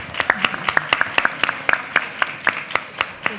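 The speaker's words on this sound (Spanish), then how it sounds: "Olé. Un aplauso." A small group applauds on a Spanish music podcast, with crisp, evenly paced hand claps about three per second, close and fairly loud, steady throughout without any talking.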